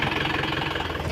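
A tractor engine running near a village field channel, a close, steady, throbbing mid-low rumble with rhythmic pulses and no voices.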